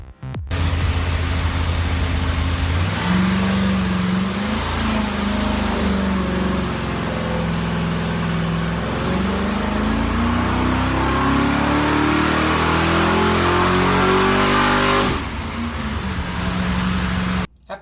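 A 500-cubic-inch Cadillac V8 running a Holley carburetor revs loudly and steadily, the engine pitch climbing and falling through sustained throttle sweeps for most of the run, with no talk over it.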